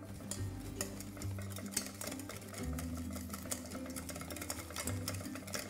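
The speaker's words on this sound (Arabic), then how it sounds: "نرجع نخلط" Cheese soufflé batter with Dijon mustard and nutmeg is mixed in a bowl, giving a fast, steady, rhythmic whirring and tapping that runs unbroken throughout at moderate loudness.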